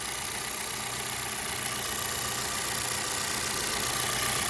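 A 2-liter four-cylinder car engine idles steadily just after starting, a continuous even hum with faint rhythmic ticking, heard alone at moderate distance with no talking.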